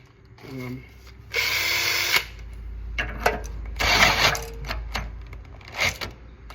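Bursts of a power drill whirring in short spurts while working on a go-kart engine, loud and close, with brief pauses and clunks between them.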